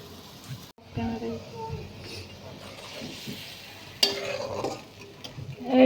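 Bengali spice paste (masala) fries low in a pan while a spoon scrapes and stirs it in irregular strokes. The sizzle is soft and close, with a sharp clack near the end and a faint voice in the background.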